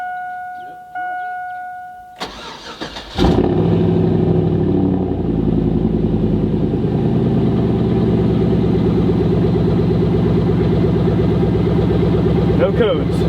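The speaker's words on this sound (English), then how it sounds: "We're gonna let it sit here and idle for about 5 minutes" A built Chevrolet Tahoe engine starts and settles into a steady, loud idle with a rhythmic low rumble, preceded by brief cranking; a person talks over it at the start.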